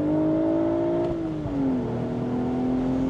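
A 2025 BMW Z4 M40i with a manual gearbox accelerating in sport mode, its engine note climbing steadily, then dropping at a shift and pulling again, heard from inside the cabin without talking.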